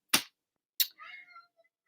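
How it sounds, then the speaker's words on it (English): A male indoor house cat meows once, close and fairly loud, after two sharp slapping sounds, in a quiet home. "This cat was an indoor cat for 8 years of his life."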